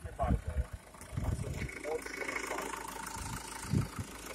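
Renault Megane car engine idling just after starting, a steady mid-range hum running under people talking nearby, with a few knocks and handling noises early on.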